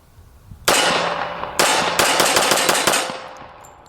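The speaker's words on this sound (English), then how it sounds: "230 grain factory full metal jackets, round nose, 45 ACP." Sharp, loud pistol shots from a .45 ACP handgun firing 230 grain round-nose full metal jacket factory rounds into a homemade bullet trap: a single shot, then another, then a rapid string of about six shots, each with ringing decay.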